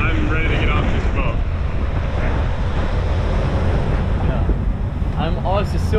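A boat at sea in strong wind, with constant low wind buffeting and wave wash, while faint voices murmur in the background.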